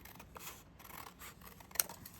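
Paper being cut with an ordinary, second-choice pair of scissors while making a mini accordion-style craft journal: quiet, soft snipping and rubbing with one sharper snip near the end, no talking.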